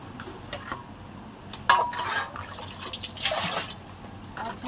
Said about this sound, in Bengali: খাওয়ার জলের বালতিটা মেজে নিই।